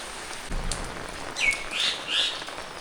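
Rain comes down on a rooftop garden as a soft, even patter, and a few short bird chirps ring out clearly above it toward the end of the brief stretch.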